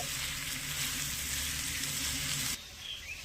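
Sago pearls frying in ghee over medium-low heat for sabudana laddu, a steady close sizzle that carries on evenly and then drops off sharply near the end.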